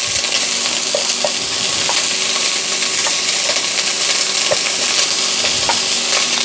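Half a yellow onion fries in olive oil in a pan, giving a steady, close sizzle with light stirring clicks and scrapes throughout, and no talking.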